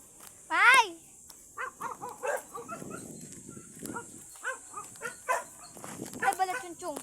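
A single loud dog bark rings out near the start, followed by scattered chatter and short vocal sounds from people and animals nearby.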